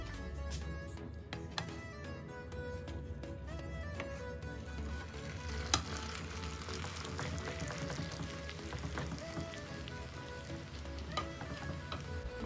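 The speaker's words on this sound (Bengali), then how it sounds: "এখন এটা ঢেলে দেব আমি বাটারের আবার ফ্রাইং প্যানে" Noodles frying in butter in a frying pan give a steady, close sizzle with soft crackles that runs throughout.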